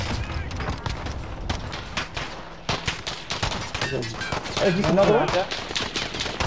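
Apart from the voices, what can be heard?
gunfire from a Call of Duty Warzone video game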